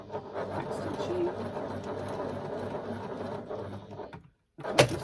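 A sewing machine back stitches fabric in a short, steady mechanical whir, quiet and close, then stops briefly before a sharp click.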